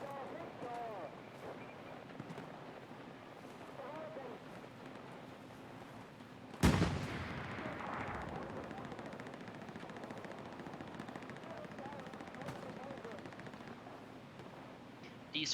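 Gunfire in the World War II shooter Hell Let Loose, one sharp loud crack partway through with lingering echo, a few fainter distant shots, and someone talking over low ambient noise.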